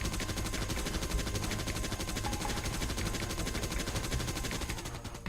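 Steady, dense gunfire from Impaler units in the real-time strategy game Rise of Nations, a continuous rattling stream of shots at an even pace with no pauses, held at constant loudness throughout.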